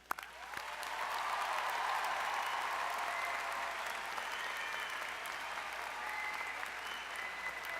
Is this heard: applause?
yes